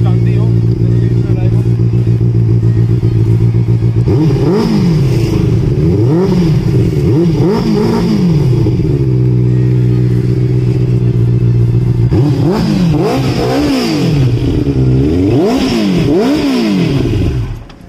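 A Benelli 600i motorcycle engine idling and repeatedly revving up and down, loud and close, with a steady low throb between bursts.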